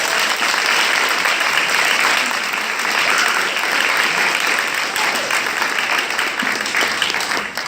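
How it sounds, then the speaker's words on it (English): Graduation audience at a 2016 high school convocation applauding, a thick, loud, continuous roar of many hands clapping in a large hall, holding steady throughout. "I want you to go ahead and give yourselves a round of applause."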